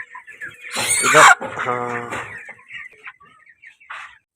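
Desi chickens cluck nearby in short, loud bursts while someone talks briefly over them.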